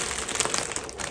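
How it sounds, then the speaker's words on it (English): Plastic packaging around stitch markers and candy crinkles loudly and continuously in a short, bright burst of rustling close to the listener. "I hope I just didn't blow out people's ears with the crinkling."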